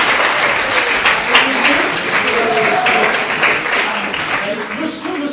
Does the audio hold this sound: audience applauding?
yes